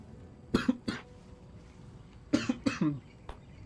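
A man coughs after water goes down the wrong way, two close bursts of harsh coughing separated by a short pause, with a little throat clearing and no speech.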